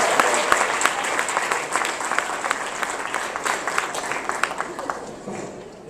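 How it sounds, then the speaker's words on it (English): Dense, loud applause from a large audience fills the whole stretch, a continuous wash of clapping with a few louder claps popping out. "Round of applause for Dinesh and Harish, everybody."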